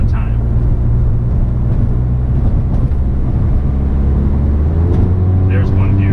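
A car with a tuned DSG gearbox kicks down a gear or two under acceleration, its engine drone loud and steady before the pitch shifts near the end.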